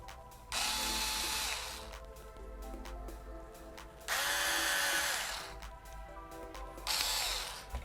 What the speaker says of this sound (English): Just have to fasten the screws.